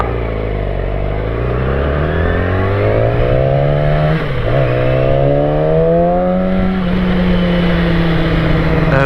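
A motorcycle engine warms up on a cold day, revving steadily with a rising and falling pitch and a brief dip midway, loud and close with no talking over it.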